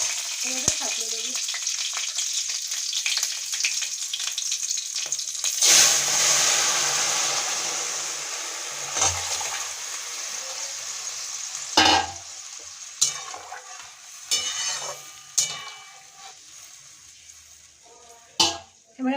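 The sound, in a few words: nigella seeds tempering in hot oil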